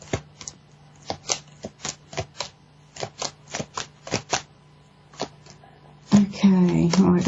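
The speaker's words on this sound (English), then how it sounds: "I'm just going to give the cards a bit of a shuffle" Tarot cards being riffled and tapped in a run of crisp, close bursts, each a sharp papery flutter with brief pauses between, followed by a louder, busier stretch of handling and shuffling at the end.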